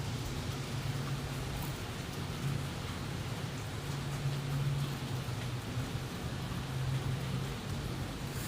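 Steady rain falls as a fine, sprinkling spray, a constant broadband hiss with a low rumble beneath it, even and unbroken throughout with no voices.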